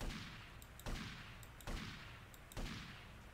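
Pistol shots from GTA Vice City Remastered, four sharp cracks spaced at a steady pace with short decaying tails, fairly quiet overall and with no talking.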